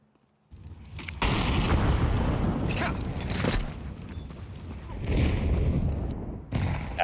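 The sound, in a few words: grenade explosions in video game Counter-Strike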